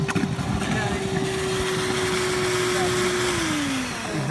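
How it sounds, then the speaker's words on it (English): A vacuum runs steadily while sucking water out of the leak area of a swimming pool, a loud continuous roar with a sustained hum that dips in pitch near the end. "Let's vacuum this out."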